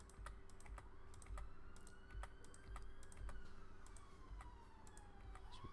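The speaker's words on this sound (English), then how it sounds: "I'm just clicking it and deleting on my keyboard" Computer keyboard keys click while lines are deleted in a laser-cut lampshade disc design. Irregular, sharp, quiet taps come one after another, with a faint siren wailing far off in the background.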